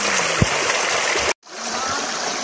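A cold river in a forest rushes with a loud, steady wash of flowing water close by, briefly cutting out for a moment before the rushing resumes.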